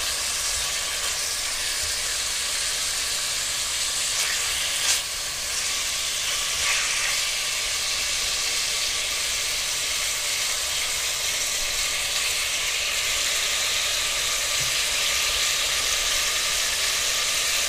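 Steady, loud sizzling of meat frying in oil in a pan while making borscht, a constant hiss with faint crackles and no talking.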